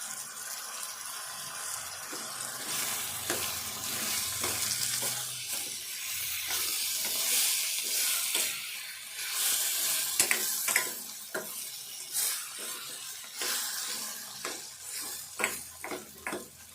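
Tomato and ridge gourd pieces fry in a pan while being stirred, a soft sizzle broken by repeated sharp spatula clicks and scrapes against the pan, close and fairly quiet.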